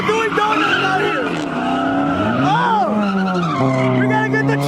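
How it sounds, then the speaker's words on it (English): Cars doing donuts at a large street car meet, tires skidding and squealing loudly in long sweeping wails that rise and fall over revving engines, with a crowd talking and shouting nearby. "they're still doing donuts out here"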